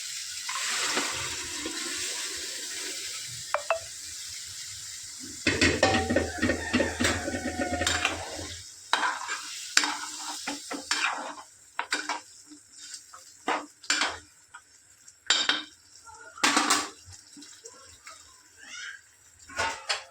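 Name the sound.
cooked mutton added to the frying masala and stirred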